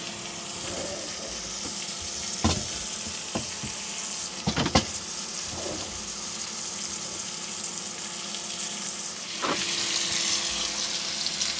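Bison chili sizzles in a skillet at a primitive campsite, a steady frying hiss broken by a few scraping clinks of a utensil against the pan.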